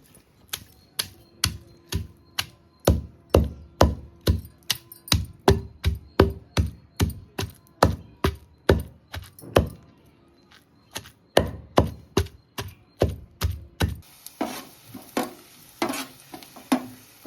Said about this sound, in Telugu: ఈ పచ్చడిని ఫినిష్ చేస్తున్నాను ఇలా స్లోగా నూరుకోవాలి